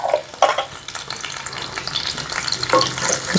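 Chopped dried coconut and raisins roasting in desi ghee in a pan, a soft sizzle with scraping stirs of a spoon at irregular intervals, close by and with no talk.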